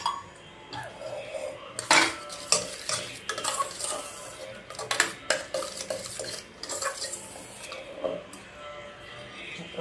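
Rice mixed with full-fat cow's milk curd by spoon, close clinks and scrapes of metal against a vessel in uneven bursts, with some faint background noise.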